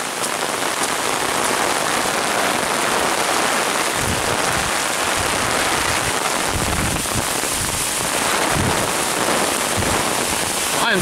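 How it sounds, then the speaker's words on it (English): Heavy rain from a severe thunderstorm during Hurricane Michael pours down steadily and loudly, a dense close hiss of drops hitting surfaces with occasional heavier splatters. "this is really a severe thunderstorm."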